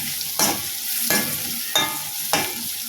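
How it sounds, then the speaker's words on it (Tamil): Garlic and green chillies frying in a pan for sambar, with a ladle stirring in four evenly spaced scraping strokes over a soft constant sizzle, close up and with no voices. "பூண்டு வெந்துக்கிட்டு இருக்கும் போதே ஒரு 3 பச்சை மிளகாய் அளவுக்கு சேர்த்துக்கலாம்."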